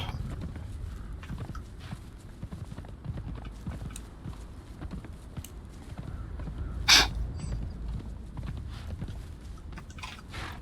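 A horse in the video game Conan Exiles walks with a steady clip-clop of hooves, soft and continuous, with one brief louder burst midway.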